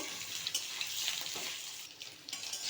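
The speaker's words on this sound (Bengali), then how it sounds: "সেদ্ধ করে রাখা সয়াবিনগুলো এর মধ্যে দিয়ে একটু ভেজে নেব" Boiled soybean chunks fry in a pan with already-fried potatoes, giving a steady, close crackling sizzle that holds throughout with no talking.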